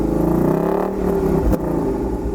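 A 2019 Ford Mustang engine revs up, its strong rising harmonic tone climbing then settling, with a brief sharp click partway through, loud and close with no talking.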